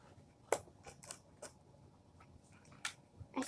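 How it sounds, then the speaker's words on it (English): Scissors snip at a cardboard box wrapped as a birthday present, several sharp, quiet clicks and cuts spaced irregularly over a few seconds, close by with no talk. "Okay, so I just cut the box."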